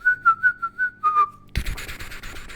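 A figure in a game whistles a short run of clear, evenly spaced notes followed by one longer held tone, then a burst of scratchy noise cuts in.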